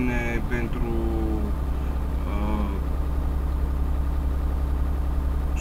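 A truck engine idles in Euro Truck Simulator 2 with a steady low rumble throughout, while someone talks briefly over it early on.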